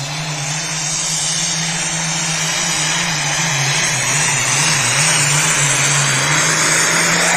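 A pulling tractor's engine roars at high revs, around 4,500 RPM, as it leaves the starting line at a tractor pull, a loud, sustained, steady drone filling the whole stretch with no voices heard.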